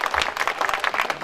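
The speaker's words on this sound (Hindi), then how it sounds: "जोरदार तालियों के साथ इनका स्वागत।" A crowd at a club gathering claps loudly in brisk, uneven bursts to welcome a guest, short and close with no talk over it.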